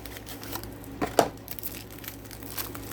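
Quiet, brief crinkling of thin plastic, with a sharper rustle near the middle and faint crackles scattered through an otherwise hushed room.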